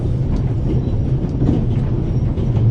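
A passenger train from the game The Raven runs with a steady low rumble and muffled rolling clatter, loud and continuous with no voices over it.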